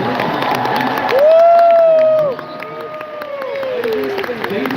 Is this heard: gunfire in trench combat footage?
no